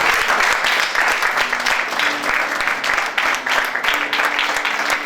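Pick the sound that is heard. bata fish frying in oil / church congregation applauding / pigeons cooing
church congregation applauding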